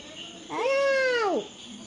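A single drawn-out cat meow, close and clear, rising then falling over about a second, with quiet before and after.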